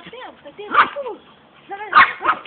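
A dog barks and yelps close by in short, uneven bursts, with people talking loudly around it.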